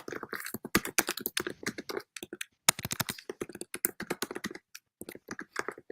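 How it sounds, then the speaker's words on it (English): Rapid typing clicks on a computer keyboard in close, crisp bursts, with short pauses between runs of keystrokes and no voices over them. "That's some serious typing going on."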